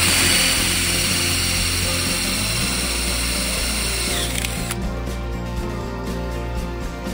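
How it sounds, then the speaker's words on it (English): A power drill bores an 11/32-inch mounting hole for a scratcher on the suspension rail of a Polaris Matryx 850 snowmobile, a loud continuous whine that cuts out near the five-second mark, leaving a lower, quieter running hum. "Drill 11/32 inch mounting hole."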